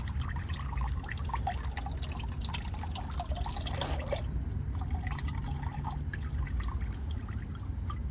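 Engine oil draining from a 2008 Acura MDX into a bucket, a continuous close trickle and patter of liquid with a steady low background hum, no voices.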